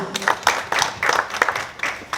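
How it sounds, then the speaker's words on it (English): A small group at a poultry farming talk claps for a speaker, a sparse uneven patter of hands with gaps between bursts, close and moderately loud. "Let's give him a good round of applause."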